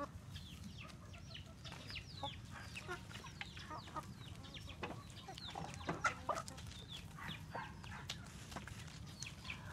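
Chickens and roosters on a farm cluck and call continuously, with many overlapping voices at moderate distance and occasional louder squawks standing out over a low background rumble.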